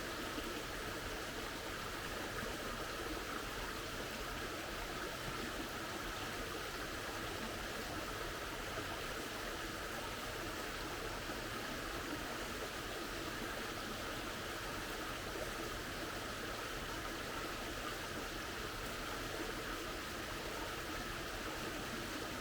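A small side creek runs steadily through the bush, a continuous even rushing and babbling of water at a moderate distance with no voices and no breaks.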